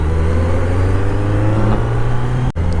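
Kawasaki Z900 motorcycle engine running steadily while riding, a loud continuous mid-pitched drone with a brief dip near the end.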